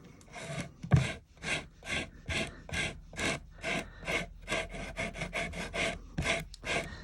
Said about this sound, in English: I have my edge sander, and I'll just get to work.